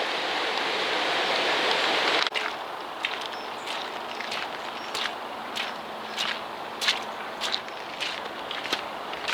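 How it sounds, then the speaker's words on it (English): Water rushes steadily through an old mill race as a constant broad hiss close by. Scattered crunching footsteps sound over it. "you can still hear the water running through the race"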